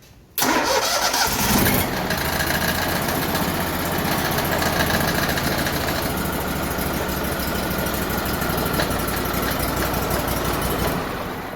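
A Grazer G2297K lawn mower engine cranks briefly, catches and then runs steadily at a loud, even idle until the recording ends, with a slight rattly vibration in the sound.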